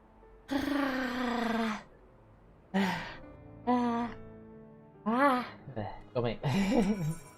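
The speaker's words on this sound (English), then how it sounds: "I had to yawn a little bit" A person yawns with a long, drawn-out voiced groan, then several shorter sighing and moaning vocal sounds follow in bursts, close and fairly loud against quiet.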